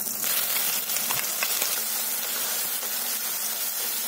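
Ground garlic and chili paste hits hot tempering oil with curry leaves for chutney, giving a loud, steady, close sizzle and hiss that continues unbroken without talk.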